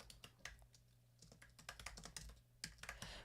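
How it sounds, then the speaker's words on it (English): Keys clatter on a computer keyboard in quick, uneven bursts of soft clicks, close and quiet, with a short pause midway and no talking. "I'll just use the text tool and I'll start typing here."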